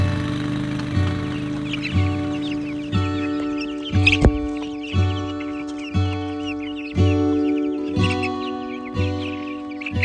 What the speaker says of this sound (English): So today's the day that we're gonna let the olive egg chicks out of their coop.